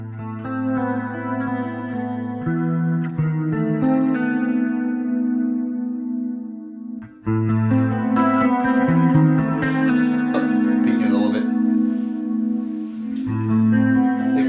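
A clean Ernie Ball Music Man John Petrucci Majesty 7 electric guitar through a Line 6 Helix, drenched in chorus and echo, ringing chords and melodic lines that pause briefly midway, then continue with busier picking, up close and steady.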